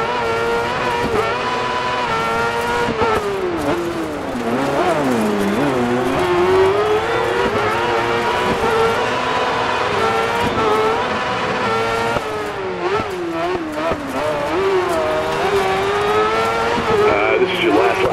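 A crosskart racing car in DiRT 4's LandRush Crosskart All Stars event screams through its revs, pitch rising and dropping with gear shifts and cornering, loud and close, with occasional tire squeal and a commentator's voice over the top.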